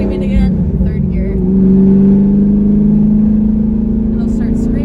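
A built Camaro with a manual gearbox revs up loudly, engine note climbing then dropping as gears shift, rising again steadily close by, with someone talking over it.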